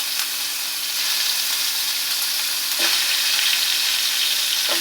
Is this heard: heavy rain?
no